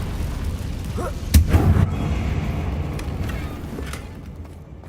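Confringo spell blast in Hogwarts Legacy aimed at a damaged bridge, one deep booming impact with a rumbling tail that fades slowly over a few seconds.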